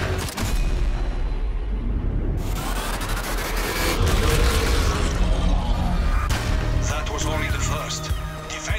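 Grenades thrown by a zombie grenadier explode in the World War II zombie shooter Zombie Army 4: Dead War, with heavy booming blasts at intervals over dense gunfire and game noise while a voice talks throughout.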